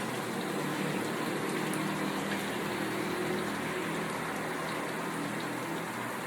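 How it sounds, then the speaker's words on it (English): Cream pours into a simmering butter chicken sauce in a pan, giving a steady close hiss and gush that holds evenly from start to finish with no talking. "Alright, so now I am going to add my cream."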